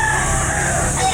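A rooster crows loud and close at a backyard chicken market near SM City Lipa, Batangas, one sustained call filling the short moment.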